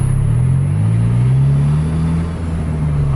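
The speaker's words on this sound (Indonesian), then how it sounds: "Gaspol lagi." Racing bus engine held at full throttle, a loud, sustained roar whose pitch climbs slowly and steadily throughout, close up with no talk.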